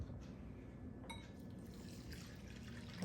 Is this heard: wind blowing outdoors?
no